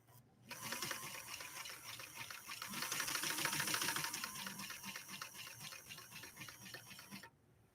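A New Home Model 703 sewing machine stitches through two layers of cotton with quilt batting between, a steady rapid mechanical clatter that runs for about seven seconds, fairly quiet and close, then stops abruptly.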